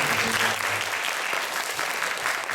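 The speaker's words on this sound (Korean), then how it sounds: "같이 열심히 박수 한번 쳐주시면" A congregation claps warmly during a Sunday church service, a steady dense wash of applause that carries on evenly for the whole stretch.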